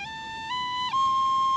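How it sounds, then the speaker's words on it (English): An Irish tin whistle plays a short run of clear, sustained notes, stepping upward in pitch with brief slides between them, close and alone without voices. "it sounds pretty good on your whistle"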